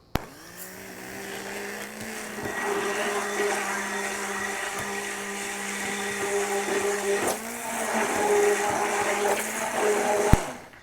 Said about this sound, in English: So I'm just going to mix it with this hand blender.